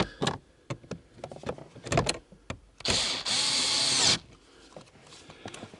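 A power drill tightens bolts on a 2012 Chevy Equinox HVAC blower motor, a short whirring burst of about a second following scattered clicks and clunks of handling, faint and close.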